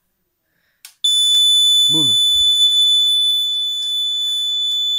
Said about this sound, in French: Et je vais la laisser sonner 5 minutes, la sirène, avec le détecteur